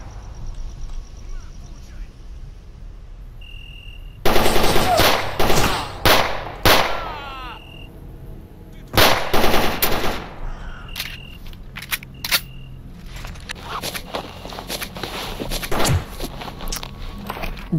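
Gunfire in S.T.A.L.K.E.R. Anomaly comes as clusters of sharp cracking shots aimed at the player, spread across the middle of the scene with quieter gaps, while someone talks in Russian.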